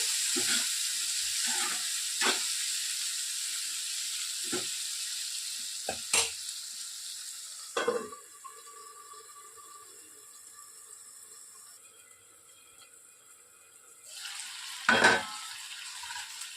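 Tomato and methi chutney cooks under a lid in a pan, giving a soft steady sizzle and hiss with occasional sharp pops and spatters, close by and without voices.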